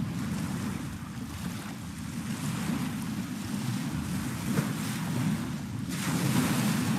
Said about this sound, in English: Notice the sound of the waves gently rolling onto shore